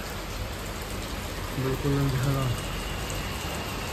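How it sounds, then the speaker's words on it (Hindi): Heavy monsoon rain pours steadily in a broad, constant hiss that fills the whole stretch, close and loud, while a person briefly speaks partway through. "और ये देखो क्या तेज़ी से बारिश हो रही है"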